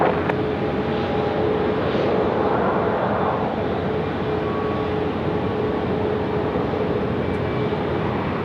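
A Boeing 737 MAX 8 spooling up its jet engines for takeoff on runway 16 right at Sydney Airport, a loud, sustained roar with a rising whine and faint tonal hum, steady throughout with wind buffeting the microphone.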